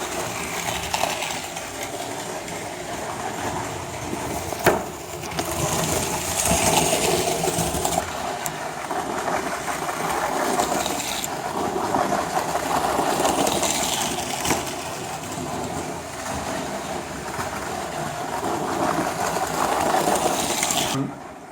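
A Bachmann model of LNER 1306 Mayflower runs on a layout, giving a steady whirring mechanical drone with faint rhythmic ticking that rises and falls in intensity over about twenty seconds.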